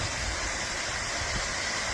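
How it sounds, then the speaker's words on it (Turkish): Ilısu waterfall in Aksaray, fed by released irrigation water, gives off a steady broadband roar of falling water, constant and moderately distant, with no voices. "Burası Aksaray Ilısu Şelalesi."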